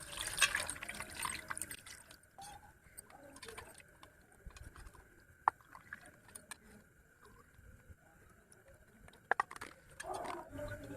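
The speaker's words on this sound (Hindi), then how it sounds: "इसे कम से कम 3-4 बार पानी से हम अच्छे से साफ करेंगे।" Water splashing and dripping as small chelwa fish are rinsed by hand, with small sloshes and a few sharper clinks, fairly close and steady, no talking.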